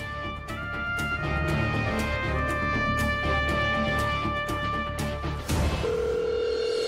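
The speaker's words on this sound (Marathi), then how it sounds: "रिंग वाजते." A telephone ringback tone plays steadily while a call connects in a Marathi TV serial scene, with a brief shift near the end.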